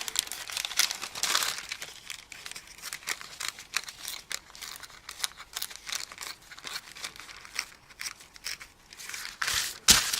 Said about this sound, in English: whether the paper's getting all squinched up and wrinkled